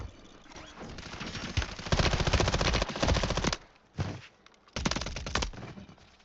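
Automatic weapon fire in the Warzone 3 Plunder mode, loud rapid bursts that stop and start several times, with short gaps between volleys.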